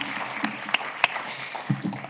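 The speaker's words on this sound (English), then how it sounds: "Another round of applause for the CMS crew." An audience claps at a CMS conference sustainability presentation. The applause is steady and moderately loud for about two seconds, with a few sharper individual claps standing out.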